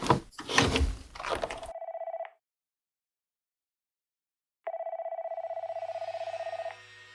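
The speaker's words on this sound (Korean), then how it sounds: "갑자기 저기서 전화벨이 울려서." A telephone bell rings at a military guard post before dawn, two bursts of rapid electronic trilling separated by a couple of seconds of silence, loud and close, following some brief rustling.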